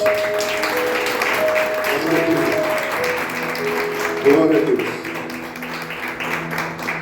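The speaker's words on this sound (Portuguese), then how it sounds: "Você pode aplaudir ao Senhor Jesus." Church congregation applauding during a Sunday service, a continuous wash of clapping with voices calling out over it and a louder swell in the middle.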